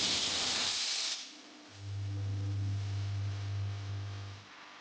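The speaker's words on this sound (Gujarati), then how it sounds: "અહીં ચાર થી પાંચ વિસલ વાગી ગઈ છે" A pressure cooker boiling dal with turmeric and salt gives a loud burst of hissing steam, then a lower, steady droning tone that holds for a few seconds before fading.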